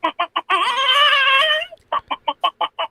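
A voice imitates a chicken: quick, clipped clucks, then a long, wavering squawk, then another run of rapid, evenly spaced clucks, loud and close.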